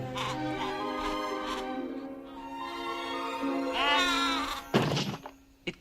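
Sheep bleating within a film soundtrack, a wavering cry rising clearly over music, followed by a sharp thud as a sheep falls over, then a quieter trailing sound.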